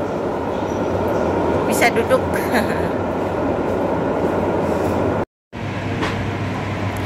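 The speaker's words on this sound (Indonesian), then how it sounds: "Kita udah lagi nunggu kereta." Metro train arriving and running at a station, a loud steady rumble with rail clatter throughout, briefly cut out near the end, while people talk over it.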